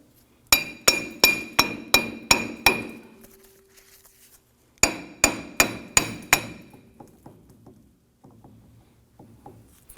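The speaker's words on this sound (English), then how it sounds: "you're going to use your hammer and want to go ahead and give this hub a few bonks to loosen it" A hammer rings sharply against the front wheel hub of a Ford F-150 in two quick bursts of about seven blows each, followed by faint scattered taps and clinks.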